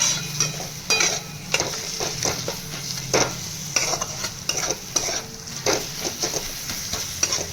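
Spices for arhar dal are mixed and fried in a pan over a low flame: a steady close sizzle with repeated scraping and stirring strokes, and no voices.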